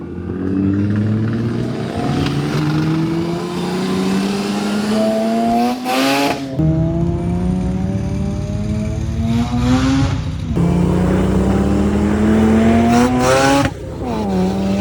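A turbocharged Mazda RX-8 rotary with a Tomei exhaust revs hard in loud, rising sweeps, dropping back between pulls and climbing again several times, close by with no talk.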